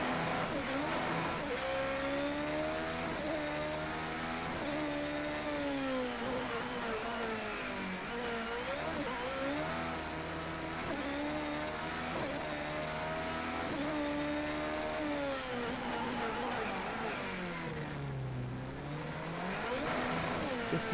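Formula X race cars lapping Snetterton from on board, the engine a steady, loud, thin and tinny drone rising and falling through gear changes and revs, with no talking.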